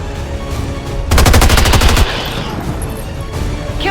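Gunfire in the video game XCOM 2 War of the Chosen comes as one loud, rapid burst of automatic fire lasting about a second, with quieter ambient game sound before and after.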